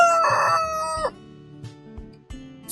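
A black Australorp rooster crows loudly and close by, one long drawn-out call that breaks off, followed by softer clucks and shuffling noises.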